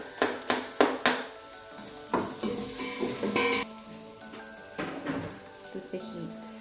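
Garlic, spices and spring onions sautéing in a pan, sizzling under a run of clattering stir strokes and utensil knocks, with a voice talking faintly in the background.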